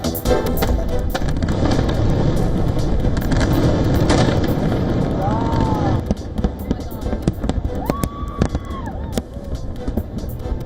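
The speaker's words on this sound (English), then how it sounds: "Fireworks light up the night sky over New York City as the U.S. celebrates its 250th Independence Day." Independence Day fireworks over New York City for the 250th celebration crackle and pop densely throughout, with sharp bangs, distant booms and faint whistling rockets rising above a loud, continuous crowd roar and chatter.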